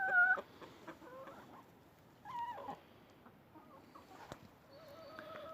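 Several chickens and a rooster cluck and chatter nearby in short, scattered calls, with a few higher squawks over a quiet farmyard background.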